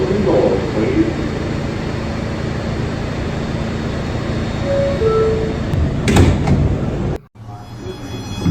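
On an R211 A express train at 175th Street in the New York subway, the doors close over a loud, steady car hum. Brief chime tones sound, then a thump, and the noise drops sharply as the doors shut.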